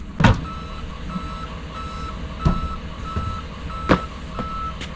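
A wood chip delivery truck reverses, its backup alarm sounding in a steady series of loud, evenly spaced beeps over the low rumble of the engine, with sharp clanks in between.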